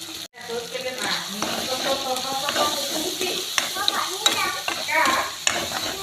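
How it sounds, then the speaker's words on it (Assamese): Drumstick greens with turmeric and salt sizzle and fry in a pan while a spoon stirs and scrapes repeatedly, a steady crackling hiss close by. "এনেদৰে লৰাই ভাজিছোঁ"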